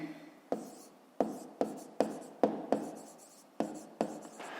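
A math answer for a 5th-grade exercise being written by hand, heard as close, distinct scratchy strokes, about eight of them in uneven succession, with no voice over them.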